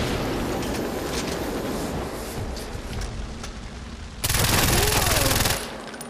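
Sustained heavy gunfire in Far Cry 4, shots aimed at an enemy tank, a dense rattling barrage that swells into a louder, harsher burst near the end before easing off.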